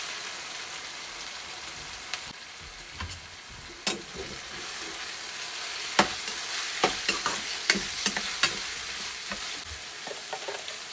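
Steady sizzling of chopped chicken frying in a pan, with occasional sharp crackles and stirring scrapes, no voices.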